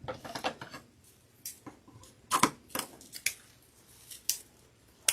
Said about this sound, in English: I'm throwing my scissors here.